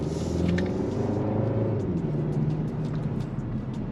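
A 2023 Kia K5 GT Line on the move, a low steady engine and road rumble from inside the cabin, smooth and subdued with a slight easing in tone.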